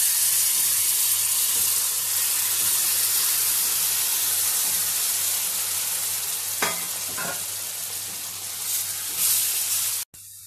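Melted jaggery is poured into wheat flour cooking in oil and ghee, giving a loud, steady sizzle and hiss with a couple of short spattering bursts partway through, close by and with no talking.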